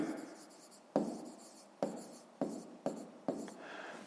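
Pen or chalk writing out math inequalities for a fifth-grade exercise, several distinct stroke onsets each followed by a scratchy trailing scrawl, close and clear with no talk.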